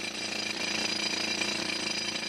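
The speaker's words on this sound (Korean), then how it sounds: "우선 암석에 구멍을 뚫는 기구인 차감 드릴을 사용해 천공 작업에 들어가기로 했다" A rock drill bores holes into a huge block of marble at a vast quarry in India, a steady, loud, continuous hammering roar with dense high-pitched rattle, close by and without pause or talk.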